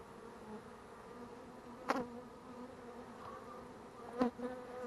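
A steady, low hum of many honey bees buzzing close by from a hive in a water meter box, with a couple of brief louder knocks.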